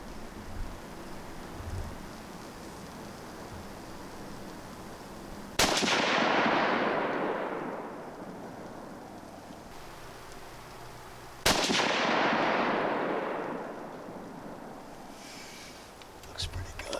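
Two sharp, loud rifle shots from a bolt-action tracking rifle, spaced about six seconds apart outdoors, each cracking out and rolling into a long echoing tail over faint background noise.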